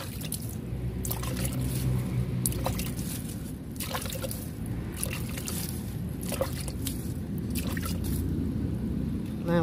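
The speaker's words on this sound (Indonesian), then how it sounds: "Kita siram ya, karena tanahnya kering kan" Water poured onto dry potting soil in a plant pot, mixed with rice husk, gives soft trickling and dripping with small splashes and squishes across the whole stretch, close and steady.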